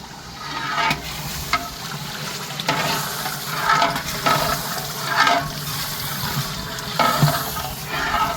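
Water being poured into a large cooking pot for village-style mutton yakhni pulao. The pour is continuous and fairly loud, with irregular splashing and stirring knocks.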